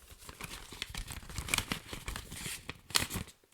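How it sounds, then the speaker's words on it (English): A paper envelope is torn open close by, giving several bursts of ripping and crinkling over a few seconds, with no voices. "so I'm going to open up the envelope here."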